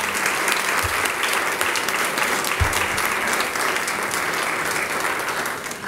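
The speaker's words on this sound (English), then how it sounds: "I think a round of applause for our candidates here" Audience applause for election candidates at a community college district election forum, steady dense clapping throughout, with a couple of low thumps, fading slightly at the end.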